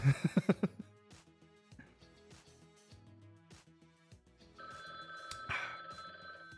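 A phone rings with a quick burst of bright bell-like trills, then scattered clicks and taps, and later a sustained electronic ringtone tone swells near the end.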